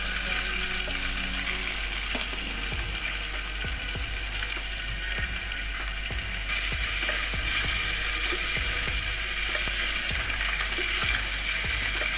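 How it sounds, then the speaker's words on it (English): Tuna steaks fry in a hot pan, giving a steady, close, broadband sizzle with scattered small pops and crackles that grows slightly louder midway; no one speaks. "when the pan is hot, we put the tuna in"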